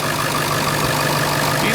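A 2001 Ford F250 Super Duty's 7.3-liter Powerstroke 16-valve turbo diesel V8, fitted with a K&N cold air intake, idles steadily at close range with a low, even hum and no voices over it.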